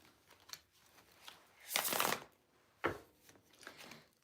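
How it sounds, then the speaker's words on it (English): A deck of cards is shuffled during a live card reading, a soft riffling burst followed by a shorter second one and faint tapping, quiet and close with no talk. "Shuffle one more time."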